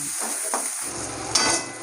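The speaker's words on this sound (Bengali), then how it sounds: "তো এই যেতে মাছটা ভাজা বেশি ভাজবো না" Fish frying in a pan with a steady hiss of hot oil, punctuated by a couple of brief stirring scrapes, close and continuous with no talking.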